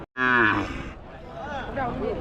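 A bull or cow at the Muthunayakkanpatti cattle market near Salem lets out a loud, close, drawn-out moo. A second, lower lowing call follows amid the market's background noise.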